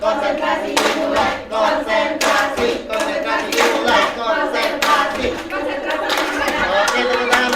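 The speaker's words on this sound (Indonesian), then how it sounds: "Oke, tepuk tangan untuk kita semua." A group of teachers at a positive-culture training session clapping hands together in a rhythmic concentration game, with bursts of crisp claps falling in repeated patterns, close and lively, along with some chatter.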